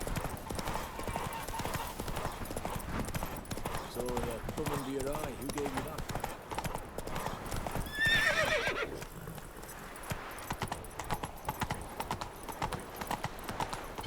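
Horse galloping in a video game: steady rhythmic clip-clop of hooves runs throughout, with a sharp whinny about midway, under a voice talking.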